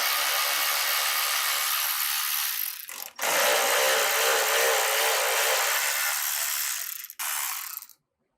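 A 12 mm socket on a ratchet loosens the front tube support bolts under a Toyota 4Runner. Rapid, close ratcheting clicks run in two long bursts, each with a brief pause and clunk, then stop abruptly.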